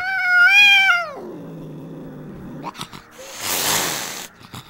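A house cat lets out a loud rising and falling yowl, then drops into a long low growl, followed by a few short scuffling bursts and a harsh hiss-like noise.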